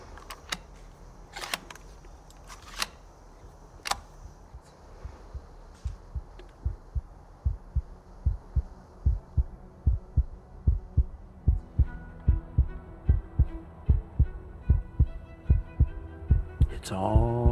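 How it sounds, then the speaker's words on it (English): A slow, steady heartbeat thumps near and loud as the only sound, its regular beats growing stronger and more distinct over the second half. "It's all between the heartbeats."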